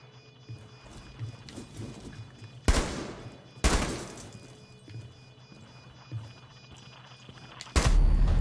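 Gunshots in Rainbow Six Siege: two loud, sharp reports about a second apart, then a third blast a few seconds later, over a low, steady in-game background hum.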